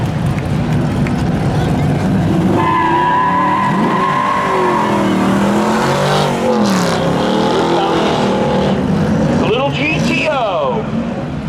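Race cars in a Spectator Drags race at an Independence Day thrill show roar and rev on the track, engines rising and falling with tire squeal, while an announcer talks loudly over them.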